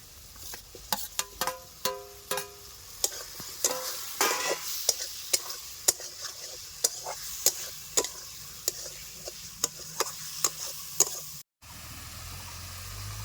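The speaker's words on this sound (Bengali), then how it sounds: "সবজিগুলিকে আমি ভালো করে কষিয়ে নিয়েছি" Vegetables are sautéed with spices in a pan for a fish curry. A spatula makes sharp, rhythmic scraping strokes over a bubbling sizzle, roughly one per second. The sound cuts out abruptly near the end before a duller hiss returns.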